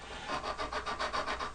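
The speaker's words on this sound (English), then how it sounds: "take your sanding stick to the tailpiece just a little bit to" A sanding stick roughs up the tailpiece of a Virginia hogfiddle kit, giving quick, close back-and-forth scratchy strokes in an even rhythm, about eight passes in a short burst.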